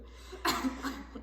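A single sharp cough bursts out, followed by a couple of smaller coughs, from a person choking on a drink of water during a close-range clinical examination.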